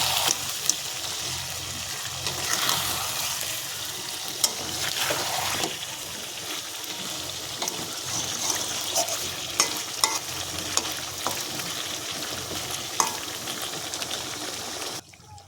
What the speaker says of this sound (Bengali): জলটা দিয়ে আমি আবারও একটু ভালো করে নাড়াচাড়া করে নেব